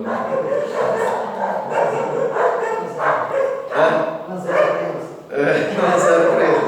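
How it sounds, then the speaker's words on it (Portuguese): Dogs bark repeatedly in the background of a church sermon, partly masked by a man preaching over them throughout. "estou eu aqui disputando com os cachorros de novo, né?"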